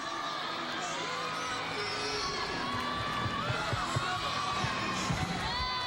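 An arena crowd at Pauley Pavilion cheering a gymnastics vault at a college women's meet, sustained loud cheering with whoops and high shouts, steady throughout.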